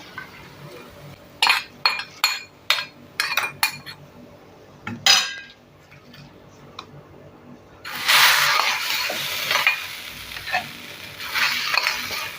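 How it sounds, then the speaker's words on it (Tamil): Fried onion tempering is poured into sambar rice and stirred: a series of sharp metal ladle clinks and scrapes against the vessel, then a loud rush of sizzling as the hot tempering hits the rice, with further stirring clinks. "நம்ம இந்த தாளிப்பை எடுத்து சாப்பாட்டில் கொட்டிக்கலாம் சாம்பார் சாதத்தில்"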